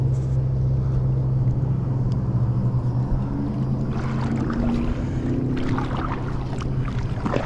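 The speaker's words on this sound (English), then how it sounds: "Yeah, the paddling is really easy in this thing." Paddling an Old Town Sportsman 120 fishing kayak on open water: soft splashes from the paddle strokes over a steady low rumble of wind and water, stronger toward the end, with no talking.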